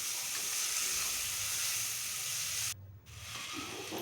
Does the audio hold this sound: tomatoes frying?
yes